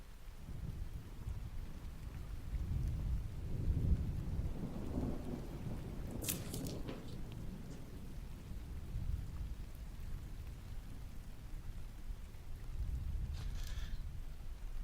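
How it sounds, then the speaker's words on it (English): Thunderstorm ambience with steady rain pattering on surfaces and low rolling thunder that swells and recedes, with no voices, heard at a soft, even level throughout. "That is Thunderstorm Ambiance Magic PD."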